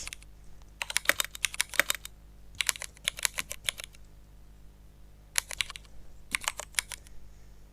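Bursts of quick typing on a computer keyboard while writing HTML in a code editor, close and crisp clicking in four clusters separated by short pauses.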